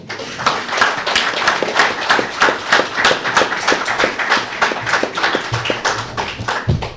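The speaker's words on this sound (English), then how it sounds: "give them a round of applause" A room applauds the Saints Hall of Fame inductees at a New Orleans Saints announcement, steady dense clapping from many hands sustained throughout, moderately near.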